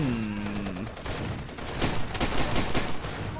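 Scattered gunfire rattles through a firefight in the video game Far Cry 2, several sharp reports bunching together midway and trailing off, with no voices heard.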